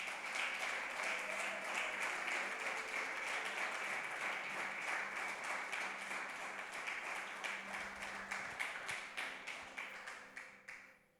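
A church congregation applauds for Jesus, a dense, sustained wash of clapping that holds steady before thinning into scattered claps and fading out.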